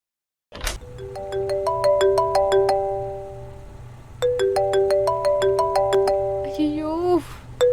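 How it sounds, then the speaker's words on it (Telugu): A mobile phone rings for an incoming call, playing a bright melodic ringtone in two repeating phrases with a steady hum beneath and a short burst of sound at the end. "అమ్మ కాల్ చేసినట్టుంది"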